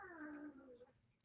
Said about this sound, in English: Battle Cat and Demona are fighting each other right now.